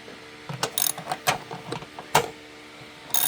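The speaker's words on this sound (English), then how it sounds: "go ahead and take your 2 10 millimeter bolts out that hold your air box in" Wrench ratcheting out 10 mm air box bolts on a GMC Terrain or Chevy Equinox engine, with scattered close clicks and metallic taps in short irregular bursts.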